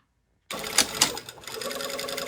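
A sewing machine runs a long basting stitch down a zipper seam, starting abruptly after a moment of silence and whirring steadily and loudly at close range.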